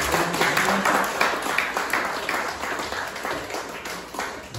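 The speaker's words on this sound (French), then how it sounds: "Merci beaucoup, on nous applaudit." A church congregation applauds steadily, a dense patter of many hands clapping at moderate distance, holding fairly even for several seconds.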